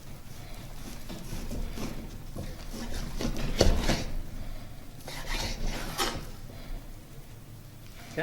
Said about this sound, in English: I need to get some of this meat sliced up